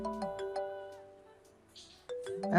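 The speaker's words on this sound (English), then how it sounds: "your phone is ringing." A mobile phone rings inside a home, its melodic ringtone sounding as a few sustained tones that fade briefly before starting again louder.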